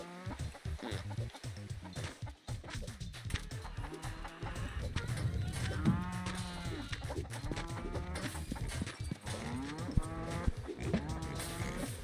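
A cartoonish cow lowing repeatedly in the co-op moving game Moving Out 2, with drawn-out, wavering moos layered over busy game music and effects, some calls overlapping, loud and close throughout.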